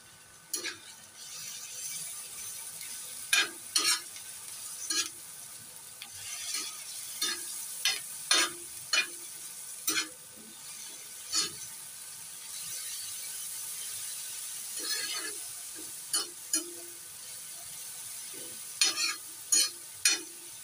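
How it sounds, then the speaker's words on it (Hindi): Onions and chutney sauté in a pan for a fish katakat, with repeated scraping strokes of a spoon against the pan over a soft, steady sizzle. The strokes come in irregular bursts, close up and quiet, with no talking. "प्याज को हमने चटनी के साथ सोते किया है।"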